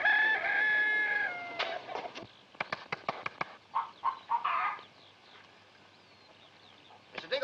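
Hens clucking, starting with a loud rooster crow up front and followed by a run of sharp, close clucks and squawks that trail off, with a few more at the end.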